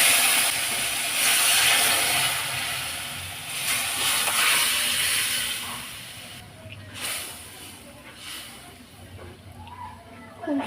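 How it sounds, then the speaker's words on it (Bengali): Boiled potato and yam go with their cooking water into a hot pan of spiced fish curry, setting off a loud, broad steaming hiss that gradually fades and settles into a softer simmer. "সিদ্ধ আলু ওল জল সমেত দিয়ে দেব।"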